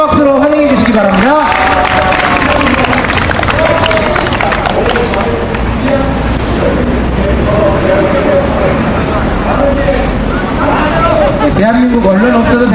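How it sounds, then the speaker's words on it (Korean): An outdoor political rally crowd in front of Daehanmun claps and cheers amid loud babble, with a voice and noisy background running through the scene. "큰 박수로 환영해 주시기 바랍니다"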